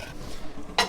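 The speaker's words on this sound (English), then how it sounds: "We'll give it a little bit of a stir." Tomato sausage ragu being stirred in a pot, with soft scraping and a sharp utensil clink against the metal near the end; close, brief and quiet.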